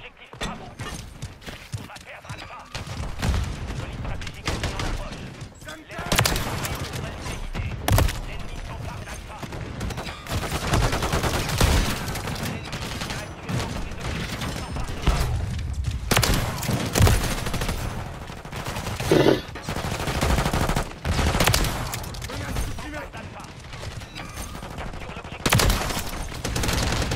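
An enemy turret fires in a shooter video game, rattling out rapid automatic bursts between short gaps. Other gunfire and game noise mix in, and a player talks over the shooting.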